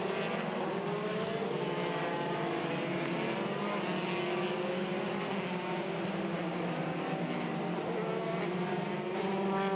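Formula 3 European Championship race cars at Spa-Francorchamps running under safety car conditions, a dense, continuous engine drone from several cars at a steady, moderate distance.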